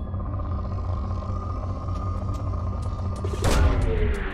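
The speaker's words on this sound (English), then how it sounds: "Launching probe." Probe launch in Mass Effect Legendary Edition: a steady low game rumble builds into a loud whooshing burst about three and a half seconds in, with faint sparkling tones trailing off afterward.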